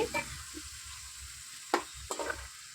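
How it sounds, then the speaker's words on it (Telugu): Onions frying in a pan while cooking coconut rice, with a quiet steady sizzle and a few sharp clinks and scrapes of stirring near the end. "గోల్డ్ కలర్ వచ్చేంత వరకు కూడా మనం ఉల్లిపాయలు అయితే బాగా వేయించుకుందాము."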